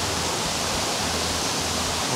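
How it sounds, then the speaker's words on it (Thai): A waterfall in Phu Hin Rong Kla National Park that once fed a water turbine roars as a steady, loud broadband rush, continuous and alone with no voices. "อันนี้เป็นน้ำตกด้วยนะครับ"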